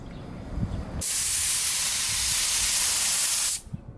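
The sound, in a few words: spray painting a car with overspray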